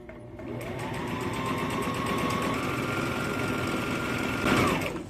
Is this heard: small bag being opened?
no